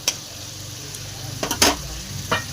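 Cauliflower stirred with spices in a pan gives a low background sizzle, punctuated by a few brief, close scraping and clattering strokes of the spoon, no speech.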